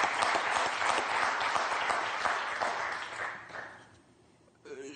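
Studio audience at a French TV quiz show gives loud, sustained applause that fades over about four seconds, followed by a brief bit of talk near the end.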